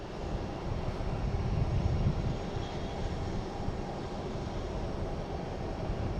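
Steady, distant jet roar of an Alaska Airlines Boeing 737-900 airliner in One World livery outbound to San Diego from Boston Logan airport, a continuous broadband rumble that swells slightly then holds.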